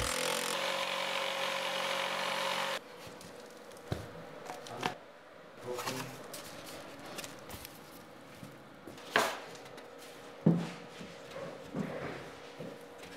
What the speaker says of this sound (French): Puis, scie avec la scie sauteuse.